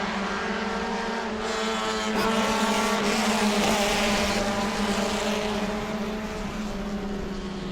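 Race cars lapping New Smyrna Speedway in a Hoosier Series event, a steady, loud, continuous engine drone with layered harmonic whine that swells slightly midway and holds as the field runs by.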